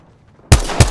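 Two sharp, loud gunshot bursts in Apex Legends crack suddenly after near silence, the first longer with a ringing tail and the second punching in close behind, with no talk.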